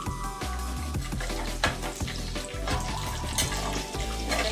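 Whole spices dropped into hot oil and ghee for a quick garlic rice dish, giving a steady close sizzle and crackle with scattered pops and a few louder clatters, no voice over it.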